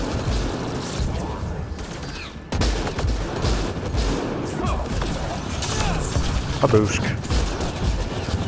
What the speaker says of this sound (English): Wow, they're shooting me again, guys.